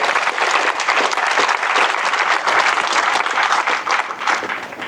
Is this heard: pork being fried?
no